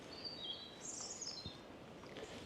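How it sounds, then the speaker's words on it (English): Migrant birds singing on an autumn coastal walk near Ventnor, faint high chirps and short trills scattered over a quiet outdoor background. "Lots of migrant birds around."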